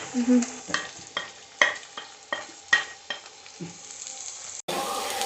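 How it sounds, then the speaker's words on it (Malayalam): Onions fry in a pan for a pasta dish. A spatula scrapes and clicks in irregular strokes over a light sizzle, and a louder burst of frying breaks in near the end. "ഇനി നമുക്ക് സവോള അതെല്ലാം ഇടാം."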